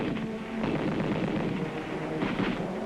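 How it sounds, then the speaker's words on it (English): Gunfire from the Korean War in a 1950 documentary, a dense continuous rattle of shots and rumbling blasts, loud and sustained throughout with no talking. "the air was filled with bullets, not confetti"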